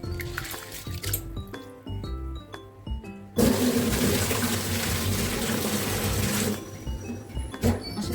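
Water gushes and splashes into a container of wheat soaking for kurdai, a loud steady pour of several seconds between quieter clinks and rattles of grain.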